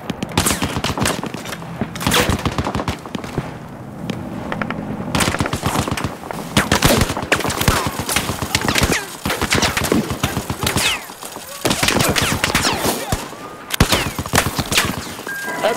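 Dense automatic and rifle gunfire rattles in rapid, overlapping bursts throughout a Battlefield 4 campaign firefight, loud and close with brief lulls between volleys.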